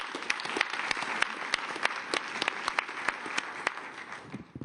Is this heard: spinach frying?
no